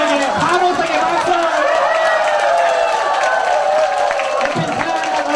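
Applause and cheering from a seminar audience, with clapping and shouting voices filling a hall, sustained and loud, as whooping and sung or called-out tones ride on top of the crowd noise.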